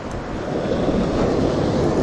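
Waves crash onto the shore at Maitum, Sarangani Province during a shore-casting fishing tournament, a loud continuous roaring wash mixed with wind rumble and no speech.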